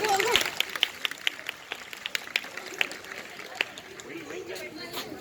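Scattered clapping from a school audience at a Republic Day celebration, a few sharp irregular claps over background murmur and voices rather than a full ovation.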